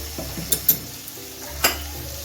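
Raw mustard oil is stirred into sojne flower curry with boiled potatoes in a pan. Three sharp spoon scrapes and clinks stand out over a faint, low sizzle.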